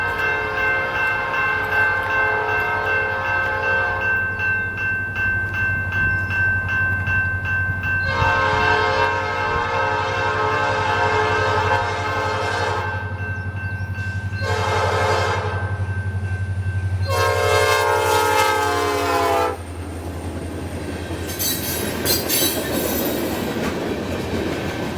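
A Norfolk Southern freight train, B25, departs Wayne on the Michigan Line with a High Hood GP38-2 locomotive trailing. A steady engine rumble runs underneath while a loud, nearby air horn sounds in several long and short blasts, and bells and rolling wheel clatter follow.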